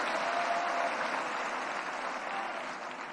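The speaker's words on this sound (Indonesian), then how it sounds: "berikan tepuk tangan" An audience applauds at the closing of a party national working meeting, a sustained wash of clapping that slowly fades, with no speech over it.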